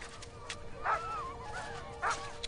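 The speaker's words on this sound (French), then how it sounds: "les restes de repas des chiens de traîneau, lesquels n'apprécient guère d'être dépouillés" Sled dogs at a hunters' camp on the Canadian ice bark and yip in two short bursts, fairly close, over a faint background.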